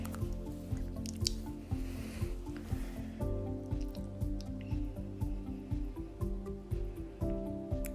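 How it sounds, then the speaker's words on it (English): Soaked beans are rubbed and squished by hand in a bowl of water to loosen their skins for akara, with soft, rhythmic wet squelches and drips repeating about twice a second, close and fairly quiet. "I'm washing the beans, removing the skin from the beans"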